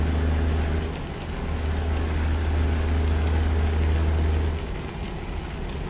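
Heavy truck in American Truck Simulator on Interstate 80, a steady loud low engine drone that eases off as it slows, with a faint high whine overhead and no talk.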